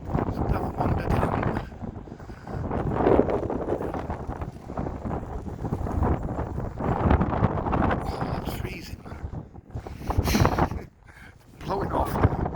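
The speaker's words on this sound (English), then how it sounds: "Just hoping some of that wind dies down now for you." Strong outdoor wind buffets the microphone in long, roaring gusts on a Blackpool street, dropping briefly near the end before surging again.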